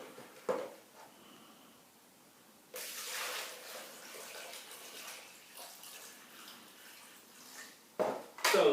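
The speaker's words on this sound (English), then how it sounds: "So I'm going to start off by adding 5 units of water." Water pours into a plastic bucket for mixing Snowcem masonry paint, a steady splashing rush that swells partway through and ends in a few louder knocks near the close.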